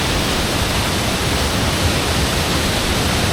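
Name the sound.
Hindhope Linn waterfall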